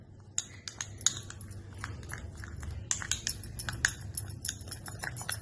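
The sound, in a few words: spoon mixing yogurt and aloe vera gel in a bowl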